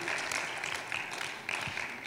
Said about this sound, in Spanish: Otro aplauso, amados hermanos